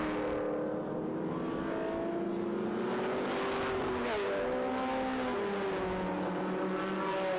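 Group S sportscars race across the start-finish line at Winton Festival of Speed, engines roaring and revving in a continuous loud pack as several cars pass close by, with rising and falling engine tones.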